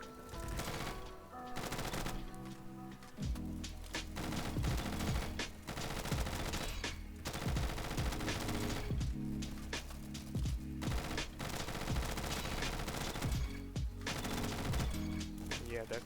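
Rapid gunfire in the Bad Business shooter game, including the P90 and Kovac, rattles almost nonstop in fast automatic bursts at close range, with a voice speaking over the shooting.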